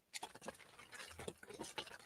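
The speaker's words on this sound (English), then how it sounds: "You hear that rain now?" Rain pattering steadily on a tent, a dense, close scatter of light taps filling the whole stretch without voices.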